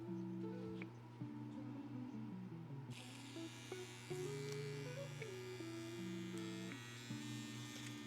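Electric tattoo machine running at about 9 volts, a continuous nearby buzz whose pitch steps up and down as the work goes on, steady and fairly quiet with no talk.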